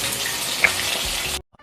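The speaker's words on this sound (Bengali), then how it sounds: "সর্ষের তেল দিয়ে আমি ইলিশ মাছের মাথাগুলোকে এখন ভালো করে ভেজে নেব।" Hilsa fish heads frying in hot mustard oil in a heated wok, giving a steady, close, broadband sizzle that holds evenly for over a second before cutting off abruptly into silence; no voices.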